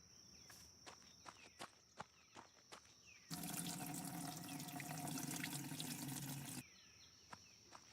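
In a farming video game, a watering can fills at a water source: a steady gush of running water lasting about three seconds, framed by soft rhythmic footsteps before and after.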